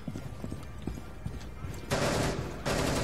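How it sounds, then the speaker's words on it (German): Bursts of rapid gunfire in Rainbow Six Siege break out twice over a low murmur of background noise, loud and sustained for a moment each time. "Schüsse? Von wo?"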